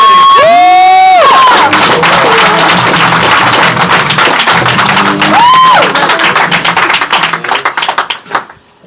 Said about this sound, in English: Everyone start clapping for Mr. Dave.